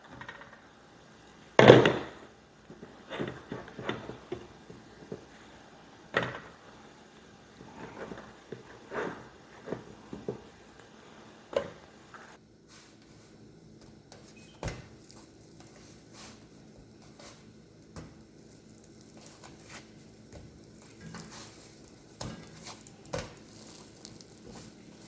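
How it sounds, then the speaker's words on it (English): Biscuits cooking in a warm skillet over low heat, a quiet, steady sizzle with scattered soft pops and crackles across the whole stretch, and a few louder knocks early on. "so skillet's warm, so we just put the biscuits in on low heat for about 4 minutes per side"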